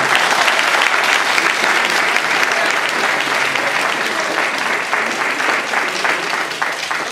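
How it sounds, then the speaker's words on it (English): Toastmasters conference audience breaks into applause, a dense, steady roar of many hands clapping close and loud for several seconds, tapering slightly at the end. "Go ahead and applaud me"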